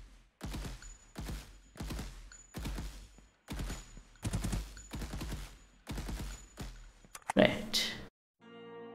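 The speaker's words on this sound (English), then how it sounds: "Now my character is shooting where I point." In an Unreal Engine 5 top-down shooter, a character fires repeated volleys of gunfire, about eight evenly spaced bursts of rapid shots, ending in a louder final blast.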